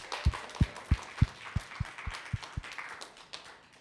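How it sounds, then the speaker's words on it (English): A handful of people clapping for a speaker at a first-generation professional development event, about nine distinct claps in a loose, uneven rhythm. The claps are fairly close and moderate in volume and gradually thin out. "Give her a round of applause."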